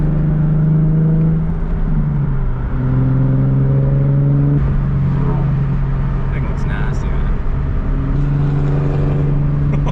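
The engine of a Mercedes C63 AMG drones loud and close while driving, its pitch rising and falling through revs and gear changes, with someone talking over it.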